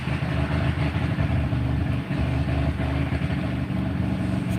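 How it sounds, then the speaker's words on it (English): A car engine with a dropped tailpipe drones loud, rough and continuous, its low exhaust roar steady with small pulsing surges and no voices present. "Sounds like somebody's having a little car trouble."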